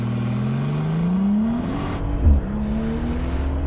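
A Brabus G800 with an 800-horsepower V12 pulls hard from a standstill, its engine note climbing steadily through the gears with a brief lift and shift, loud and close from inside the cabin.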